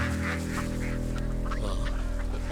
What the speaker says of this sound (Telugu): వాడు బాతులు వదిలేసాడయ్యా